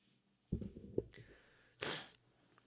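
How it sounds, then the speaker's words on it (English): A single close sneeze, preceded by a few sharp inhaling breaths, then a burst of noisy exhale, in an otherwise quiet room. "Gotta sneeze."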